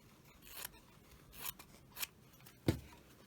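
Scissors cutting through fabric, making several sharp, close snips spaced irregularly, with the last cut the loudest, in a quiet room with no talking.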